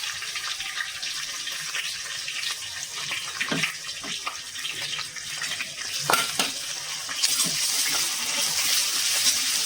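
Garlic paste frying in a pan for a Marathwada-style khandavdi curry, a steady hiss of sizzling oil with a few sharper clicks and spatters, growing a little louder toward the end, no voices.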